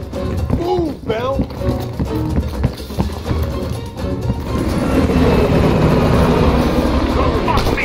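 Helicopter flying away in Call of Duty Black Ops Cold War, a growing steady rotor roar taking over after several seconds of shouting and footsteps on a rooftop.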